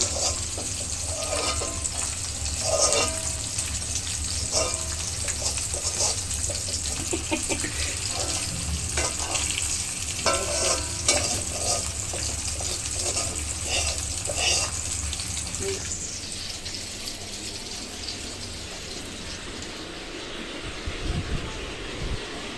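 Jute leaves (pat shak) being fried for bhaji, giving a steady sizzle with scraping and stirring clatter throughout. Near the end the sizzle drops away into quieter kitchen handling.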